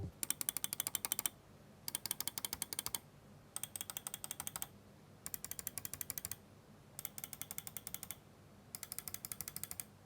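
Button clicks from a Logitech G502 X gaming mouse, fired in rapid bursts of about a dozen crisp clicks each, six bursts separated by short pauses, close and sharp against a quiet background.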